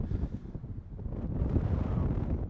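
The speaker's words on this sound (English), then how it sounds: "It's windy, as always." Wind gusts over the microphone at the Watchman Trail viewpoint in Zion National Park, a close, steady low roar that swells slightly, with no talking.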